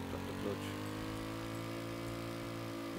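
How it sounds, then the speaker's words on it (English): Compact modular engine in the Stormworks video game running steadily, a low droning hum that holds at an even level with a slight rise early on. "Nice and powerful little compact engine."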